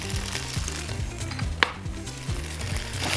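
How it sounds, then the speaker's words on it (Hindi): Makhni halwa being roasted with sugar in a pan, a continuous soft sizzling with repeated stirring strokes and scrapes that stays close, even and steady, with no talking. "थोड़ा सा हम चीनी के साथ इसको भूनेंगे।"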